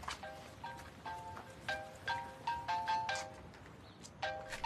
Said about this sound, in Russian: Господин Онур звонит